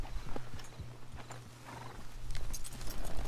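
A horse in the video game Red Dead Redemption 2 snorts and whinnies with scattered hoof clops, close and fairly loud over a low steady background hum, with no talking.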